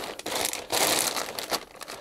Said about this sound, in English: I'll take the plastic bag the rest of the way off.